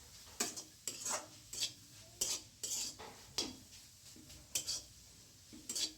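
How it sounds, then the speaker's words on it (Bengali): Boiled mustard greens are stirred in a pan, with repeated scraping strokes of a utensil against metal at an irregular rhythm of about one per second, close and fairly quiet over a faint sizzle. "শাকগুলো সিদ্ধ হয়ে গেলে ভালো করে নাড়াচাড়া করে নেব"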